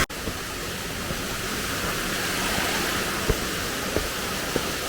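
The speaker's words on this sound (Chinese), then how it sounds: "溪水。" A mountain stream flows past an abandoned village in rural Jiangxi, a steady broadband rush of water with a few faint knocks scattered through it and no voices.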